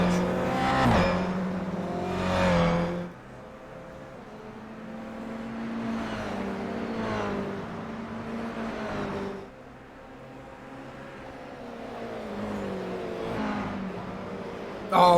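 GR86 race cars lap the Chicago street circuit in the iRacing sim, engine notes rising and falling through gear changes as cars pass, fairly faint and steady under the broadcast bed.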